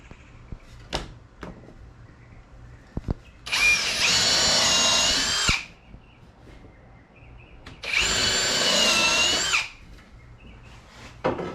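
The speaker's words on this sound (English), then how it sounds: "I'm going to go ahead and drill the countersunk holes." Power drill boring countersunk holes in wood for an Adirondack chair, two sustained loud bursts of about two seconds each separated by a pause, with light clicks and handling knocks between.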